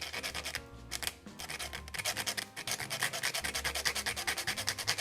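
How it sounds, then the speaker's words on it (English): Cinnamon is ground by hand, giving a close rhythmic scraping and rubbing grind that repeats in quick, even strokes with no talk. "you can also use ground cinnamon, but I'm going to grind it up myself."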